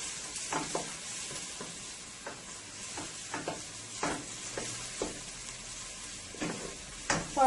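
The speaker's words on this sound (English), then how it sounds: "I'm going to add my garlic. And I don't want to burn my garlic, I just want to toast it a little" Garlic toasting in hot oil for dhal, a steady soft sizzle with intermittent stirring scrapes and clicks of a utensil in the pan, close and moderately quiet.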